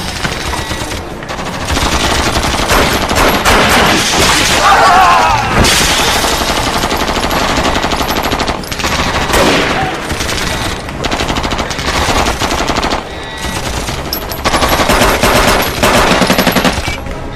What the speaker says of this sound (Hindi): छोड़ना मत, शूट करते रहो। शूट कर रहे हैं पूरी तरह से।